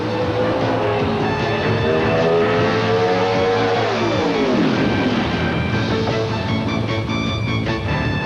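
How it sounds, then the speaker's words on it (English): An Oldsmobile pro stock drag racing car at a 1988 NHRA event revs hard with rising harmonic engine whine, then the pitch swoops down as it passes, followed by further loud race engine roar. "Johnson's Oldsmobile was all over the racetrack"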